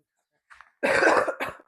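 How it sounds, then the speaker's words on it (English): A short, throaty cough bursts out after a faint breath, followed by a smaller second cough, close to the listener. "Oh, I have to cough"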